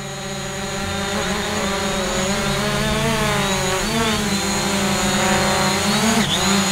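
A Hubsan Zino drone flying and spinning around, a loud, steady whining buzz of its motors, pitch sweeping up and down as it turns, heard close throughout.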